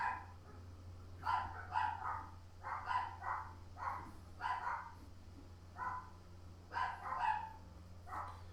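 Several dogs bark excitedly downstairs in a house, a rapid irregular string of muffled yips and barks heard from another floor, moderately faint with a low hum underneath and no talking.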